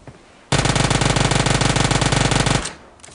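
Automatic gunfire from a PUBG battle on the Erangel map rattles in one loud, rapid sustained burst of about two seconds, close and dominant, then cuts off into quiet.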